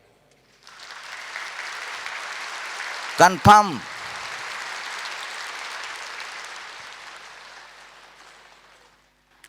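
An audience at a Brahma Kumaris meditation gathering claps together in a broad, sustained round of applause lasting several seconds, with a brief spoken word from the speaker cutting in near the start.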